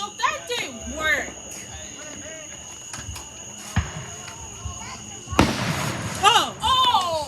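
Fireworks going off outdoors, with sharp pops and crackling bursts near the middle and end, under excited shouting and chatter from several nearby people.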